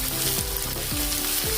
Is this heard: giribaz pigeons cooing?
no